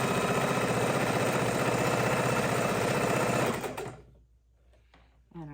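A sewing machine stitches a quilt block seam with a fast, even, rattling hum, close and loud, then stops abruptly, leaving faint handling clicks and a soft thump.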